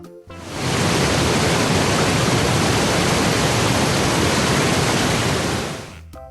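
Steady, dense rush of a waterfall, loud and continuous for about five seconds, fading in and out at the edges with no voices over it.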